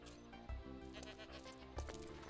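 Goats bleat in the Minecraft video game, two short nasal bleats over steady background music.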